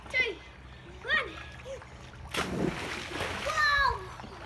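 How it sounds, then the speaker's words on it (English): A cannonball jump into a swimming pool lands with one big splash around the middle, followed by churning, sloshing water; a voice and excited chatter are heard before and after. "Whose splash was the biggest?"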